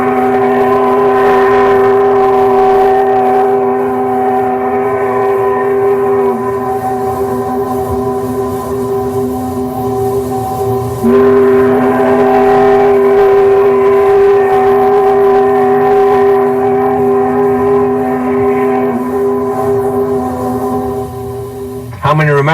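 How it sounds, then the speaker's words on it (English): An old mine steam whistle in use from 1887 to 1937 sounds in a recording, a loud sustained multi-tone chord blowing for a long stretch, cutting off briefly and resuming before ending with a brief pitch slide. "the old mine whistle blew from 1887 right through to the time it shut down in 1937. And this is a recording of the actual whistle."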